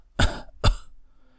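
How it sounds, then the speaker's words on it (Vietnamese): An old emperor coughs twice in quick succession, two harsh, close, distinct bursts with a short gap, followed by faint breathy quiet. "lão hoàng đế có chút khó thở, liền ho vài tiếng"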